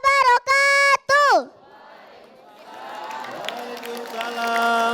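An audience at a televised children's Islamic preaching competition breaks into applause. A loud sustained tonal sound in short blasts comes first, then the clapping and crowd noise swell gradually from faint to fairly full.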